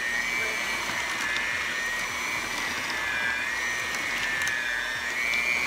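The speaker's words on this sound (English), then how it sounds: "We're using the hand mixer now." Electric hand mixer beating cookie dough packed with M&Ms in a very full bowl, a steady close, loud whirring motor drone with a high whine running unbroken throughout.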